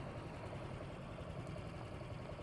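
An automatic-transmission motorcycle engine runs at a steady idle after starting, a continuous low, even rumble close by with no talk over it.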